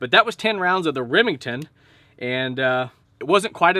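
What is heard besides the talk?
No everyday noise stands out behind the speech.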